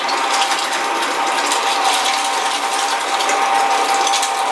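Electric meat grinder processing meat for headcheese, a loud continuous mechanical whir with a steady motor hum and fine ratcheting grind throughout, unbroken and close.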